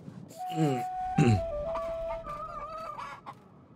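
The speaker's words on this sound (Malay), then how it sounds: "Ada ayam hitam." Chickens cluck in a video game set in a village, with a few sharp clucks followed by a drawn-out, crow-like call, fairly close and clear.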